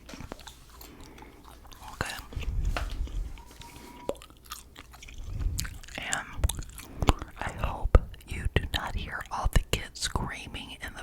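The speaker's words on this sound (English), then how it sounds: "I'm gonna have to put another piece because this gum is so tiny." Gum is chewed close up with soft, wet, irregular smacks and clicks, while a person whispers over the chewing throughout.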